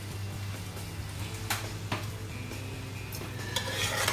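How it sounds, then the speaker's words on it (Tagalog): Adobo stirred in a pot, a spoon scraping and clinking against the metal in a few distinct strokes, with a faint simmer and a low steady hum beneath, close and fairly quiet. "Haluin."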